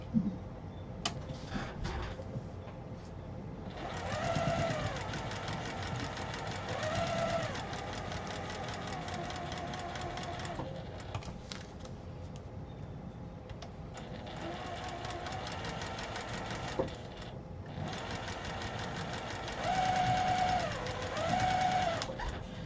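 A sewing machine stitches quilt pieces along marked lines in repeated bursts of rapid mechanical whirring, separated by short pauses and faint handling noises, with no talk.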